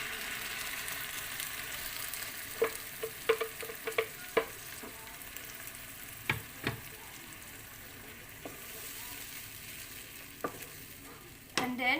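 Tomato paste fries in a pan over browned onion for an Indian chicken masala, a steady low sizzle broken by scattered sharp stirring scrapes and clicks.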